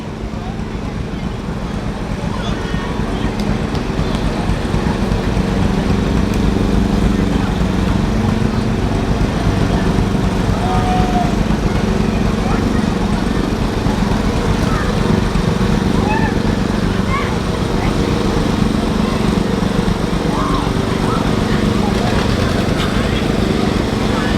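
An old 1958 John Deere B tractor rolls along in a small-town summer parade in Swanville, Minnesota, its steady engine rumble loud and continuous for the whole stretch, with people talking over it.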